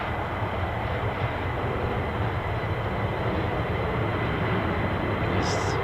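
A military jet taxies along an air force base runway, its engines a steady, broad, continuous roar heard at some distance without pause, with a brief high whine rising near the end.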